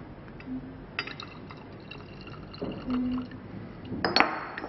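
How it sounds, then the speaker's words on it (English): Chlorine water poured into potassium bromide solution in a glass flask, a short liquid pour with faint glassy clinks and a brief splash near the end, close and fairly quiet, with no talking. "Then chlorine water into potassium bromide."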